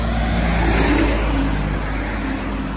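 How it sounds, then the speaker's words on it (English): Steady road traffic noise near a town along the Appalachian Trail, a constant broadband rumble with a car passing by at moderate distance, no talking. "Sorry for the road noise here."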